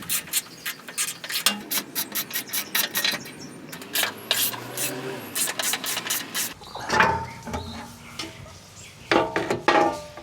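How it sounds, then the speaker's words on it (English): A hand ratchet clicks in quick repeated runs as a 12 mm socket loosens bolts on the front differential plate of a 2013-2021 Lexus GX460, close and dry with brief pauses between strokes. "Our first task is to remove this plate, and we'll do that using a 12 millimeter socket."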